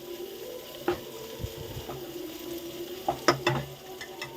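Okra and shrimp frying in a pan give a steady, close sizzle, broken by occasional scrapes and taps of a stirring spoon against the pan.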